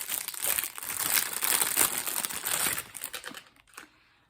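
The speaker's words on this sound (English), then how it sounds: "please excuse the crinkling" Plastic packaging crinkles and crackles continuously for several seconds at close range, then the rustling thins out and stops, with no voices.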